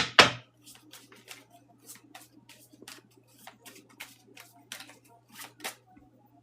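Tarot cards are shuffled in quiet, repeated soft riffling bursts at an uneven rhythm after a sharp knock at the start, with a faint steady hum underneath.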